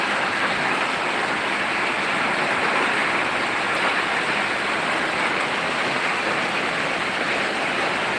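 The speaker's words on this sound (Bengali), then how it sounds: "প্রচণ্ড বৃষ্টি হচ্ছে ভাই" Dense, steady downpour in Sirajganj after a heatwave roars loudly and evenly throughout, a constant hiss of heavy rain with no voices.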